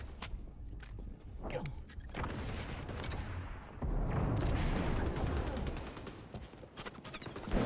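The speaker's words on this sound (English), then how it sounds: "Grenades away." Grenade blasts and gunfire in the online shooter XDefiant, loud booming bursts mixed with rapid shots and footsteps during a chaotic firefight, rising in intensity partway through.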